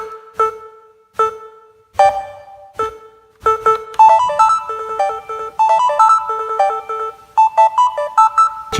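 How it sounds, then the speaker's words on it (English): Yamaha Tenori-on grid sequencer begins with sparse, spaced chiming notes, then the tempo jumps and a dense, fast run of bright synth tones continues, loud and close with no voices. "And naturally we can change tempo."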